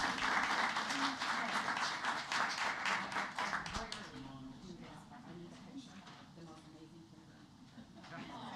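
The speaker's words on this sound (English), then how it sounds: "As we give another round of applause" Audience applause at a school board meeting honoring administrators, dense clapping strongest in the first half and then thinning out, with talk over it.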